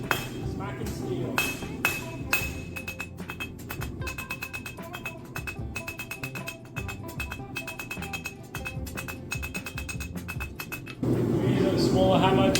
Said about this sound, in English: hammering it on that angle to flatten it out and make it a point